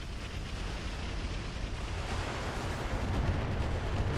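Rocket explosions in the video game BattleTech RogueTech rumble as a dense, continuous roaring barrage of blasts, loud and sustained throughout.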